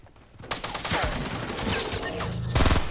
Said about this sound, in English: Oh shit, I'm being shot.